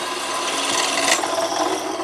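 A Dtech 13 mm, 450 W bench drill press bores into a workpiece, giving a steady, close rasping and grinding noise that holds for about two seconds with a slight swell near the middle.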